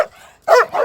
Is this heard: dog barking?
yes